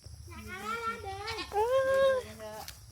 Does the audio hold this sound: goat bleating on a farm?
yes